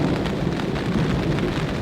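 Steady heavy rain pours down with a continuous low rumble of thunder underneath during a severe storm at a campsite, dense and enveloping, no voices.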